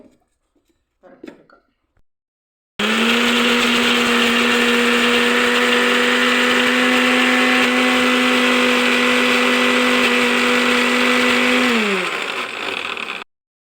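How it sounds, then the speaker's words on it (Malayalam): After a couple of seconds of faint sounds, a mixer grinder blending cashews roars loudly and steadily for about nine seconds, then winds down and stops. "അണ്ടിപ്പരിപ്പ് ഇതെല്ലാം കൂടി ഒന്ന് മിക്സിയിൽ"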